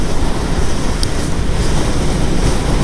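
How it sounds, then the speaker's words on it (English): Strong wind buffets the microphone of a rider on a Royal Enfield Classic 350 motorbike, a loud continuous roaring rush that swamps everything else, with no speech. "It's what you could call a little bit windy, so I hope it's not coming over on the microphone as too much."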